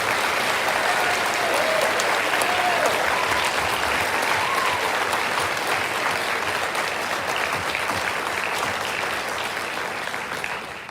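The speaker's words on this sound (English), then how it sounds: "We give them a round of applause, please." Steady, loud applause from a large audience fills the whole stretch at a sixth grade promotion ceremony, honoring award winners, with no letup until it fades slightly at the end.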